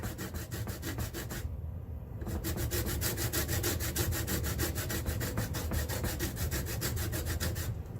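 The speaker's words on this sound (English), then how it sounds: "I'm just going to rub the lime on there" A lime is rubbed against a grater for zest, giving a continuous rhythmic scraping and rasping close up with a brief lighter pause partway through.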